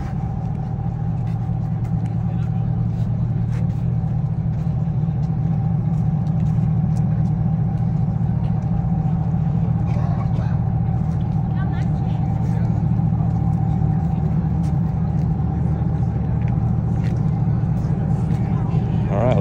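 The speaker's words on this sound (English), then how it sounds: "We have a rear engine Cummins" A custom twin-engine pickup truck with a rear-mounted Cummins engine idles at the SEMA 2023 show. A loud, steady diesel drone with a constant hum holds through the whole stretch, and a voice is heard faintly in the background.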